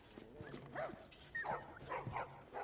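Dogs bark and yip in short bursts, with a faint whimper among them, at a market where dogs are sold for food in The Last of Us video game. The barks come moderately loud against a soft background, with no talk.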